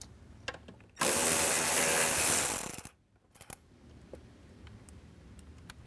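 A 10mm bolt being backed out of interior trim on a Jeep Wrangler JL or Gladiator JT with a power tool, a steady loud whirring burst of about two seconds, followed by a few faint clicks and handling noises nearby.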